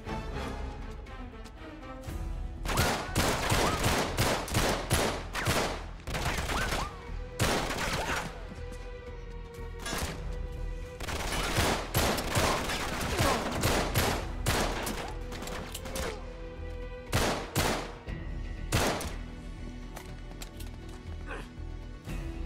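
Gunfire in Uncharted 3: Drake's Deception, with bursts of sharp, loud shots packed into rapid clusters and brief lulls between them, continuing across the whole stretch amid game noise.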